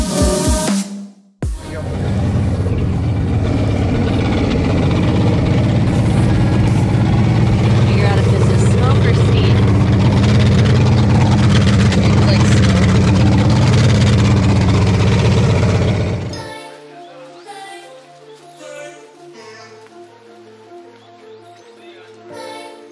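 A Mercury two-stroke V6 outboard engine runs on the water with a loud, steady drone for about fifteen seconds before cutting out, followed by quieter talk over the end.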